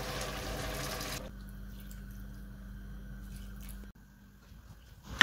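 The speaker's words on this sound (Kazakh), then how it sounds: "Қайнаған су құямыз." Boiling water is poured into minced meat frying with tomato paste, salt and black pepper, making a brief rushing splash at the start that drops to a quiet, low simmer.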